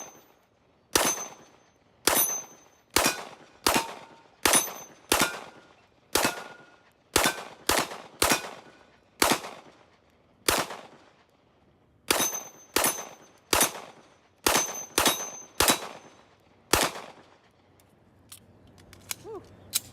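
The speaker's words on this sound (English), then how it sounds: "So let's go ahead and fire some. These will be the first shots I've had with this gun" Sig Sauer P226 Elite Stainless pistol fired for its first shots, about two dozen sharp, loud cracks in quick uneven strings with brief pauses, each snapping off into a short echoing tail, no talking.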